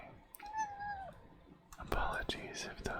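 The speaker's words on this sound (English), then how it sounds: "Apologies if those meows are a little loud or disturbing." A pet cat named CJ, a very vocal kitty, gives a drawn-out meow close to the microphone, then a quieter second cry, followed by scattered sharp clicks.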